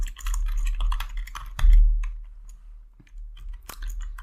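Fast typing on a computer keyboard, a dense run of clattering keystrokes with a brief heavier thump partway through, then scattered taps trailing off, close and fairly loud.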